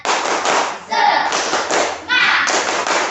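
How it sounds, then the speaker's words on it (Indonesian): Schoolchildren in an Indonesian elementary classroom perform a group spirit clap, bursts of sharp, fairly synchronized hand claps broken by brief pauses, with young voices shouting in between. "Bapak minta tepuk semangat dulu. Tepuk semangat"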